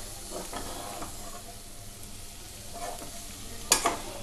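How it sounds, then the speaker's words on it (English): Onion curry being stirred in a sizzling pan, with soft scraping strokes over a faint frying hiss and a sharper clink of the spoon near the end. "Mix them all like this."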